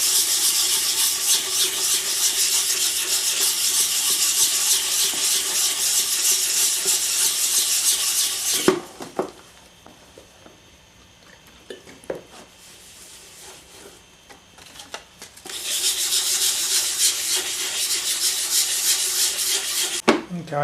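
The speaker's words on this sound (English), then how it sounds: "I've been wet sanding for a couple of minutes" Wood being wet sanded by hand with slurry on the surface: a steady, loud, close rasping rub, then a quieter pause with faint scrapes and knocks before the sanding strokes resume just as strongly.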